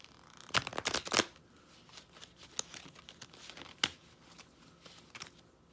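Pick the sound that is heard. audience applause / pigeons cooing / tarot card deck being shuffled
tarot card deck being shuffled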